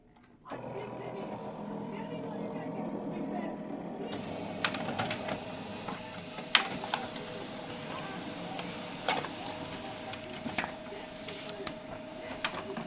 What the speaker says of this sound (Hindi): चलिए अब हम इस प्रिंटर से कोई चीज़ प्रिंट करते हैं और देखते हैं प्रिंट कैसा आता है